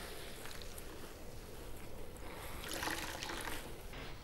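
Bitter gourds are washed in water, giving a quiet close-up sloshing and trickling with small splashes that build briefly near the end, no voices.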